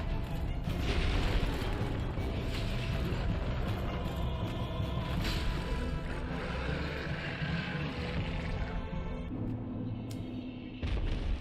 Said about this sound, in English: There you go with this explosion bullshit attack